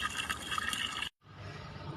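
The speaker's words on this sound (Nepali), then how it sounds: "म यति बेला यहाँ मेरो खेतमा पानी हालिरहेको छु" Water splashes and trickles steadily onto soil in a vegetable field, close and moderately loud, breaking off for a moment of silence before the pouring resumes more softly.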